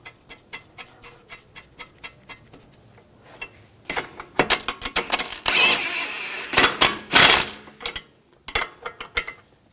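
A hand ratchet tightens a nut onto the control arm bolt of a 2004–2009 Audi A4 Quattro in a workshop, clicking in rapid repeated bursts, with metallic clatter and rattling of parts in between.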